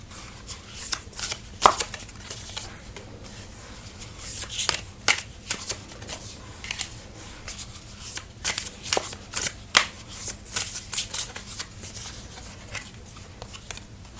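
Tarot cards being shuffled by hand in a quiet room, a run of crisp riffling and slapping bursts that repeat irregularly, close and fairly loud, with no voices.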